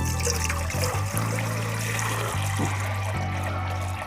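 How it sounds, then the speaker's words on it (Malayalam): Water pours steadily into a cooking pot on a gas stove, a continuous close trickle with brief breaks, as when preparing a traditional dish. "അപ്പോൾ ആദ്യം വെള്ളം ഒഴിച്ചു കൊടുക്കാം"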